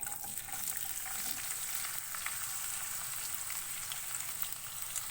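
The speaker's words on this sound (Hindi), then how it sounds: "प्याज को हल्का गोल्डन ब्राउन होने तक फ्राई करेंगे। चमचा चलाते रहेंगे।" Finely chopped onion fries in oil while being stirred with a spoon, giving a dense, even crackling sizzle that holds steady from start to finish, close and moderately loud, with no voices.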